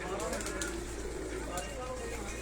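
Pigeons coo at a pigeon keeper's house, soft low cooing calls close by under a faint voice and steady background hum.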